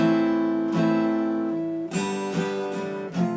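Strummed acoustic guitar F bar chords ring out clearly, a sustained chord followed by several rhythmic strums, with no voices.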